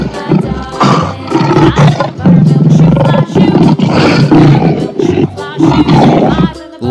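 A lion roars loudly and repeatedly, with deep rumbling bursts and short pauses between them.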